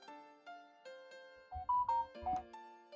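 Several phone notification chimes in quick succession, clean tonal beeps and jingles rising in loudness toward the middle, with no talking.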